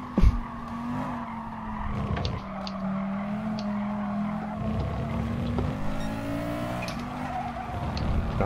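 Cars in a GT Sport online race skid and wreck with tire squeal and scraping, engine notes rising and falling and several sharp impact thumps.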